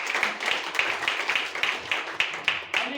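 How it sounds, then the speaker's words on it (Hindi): Audience applause at a business seminar: a steady patter of many hands clapping indoors, with irregular sharper claps standing out through three seconds and no speech over it. "एक जबरदस्त ताली फिर से।"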